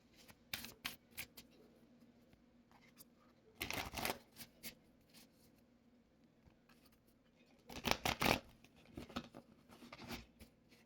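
Tarot cards being shuffled close up in two brisk riffling bursts, separated by quiet pauses and scattered small taps and handling noises.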